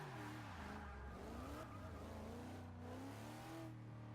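Drift car in the Forza 6 racing game held in a long slide, its engine droning and revving with rising and falling pitch sweeps and steady tire squeal throughout, loud and close with no talk.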